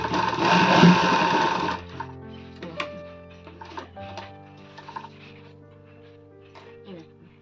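A sewing machine stitches an elastic casing with a fast, loud mechanical whir for just under two seconds. It then falls quiet while someone speaks over faint handling noises.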